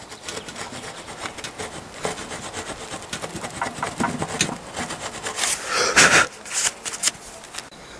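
A worn chisel pares excess wood from an axe handle in a series of close, rasping scrapes and rubbing strokes that grow louder and denser toward the end, with no talk.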